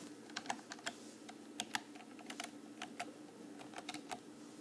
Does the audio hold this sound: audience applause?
no